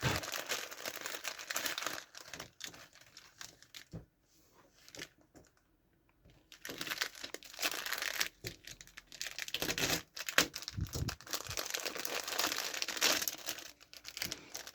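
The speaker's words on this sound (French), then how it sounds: "on va venir ouvrir ça, notre sachet" Plastic sachet of model parts being torn open and handled, giving close, crinkly crackles in bursts with a short quiet pause partway through.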